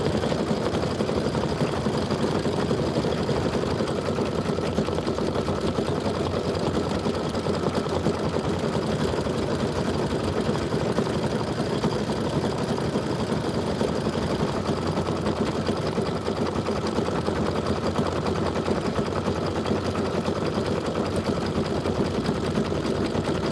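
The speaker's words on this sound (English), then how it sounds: "This is 6 minutes of stitching." A sewing machine stitching steadily at a sewing and vacuum shop, a continuous fast mechanical whir and rattle that holds an even level throughout with no pauses or talking.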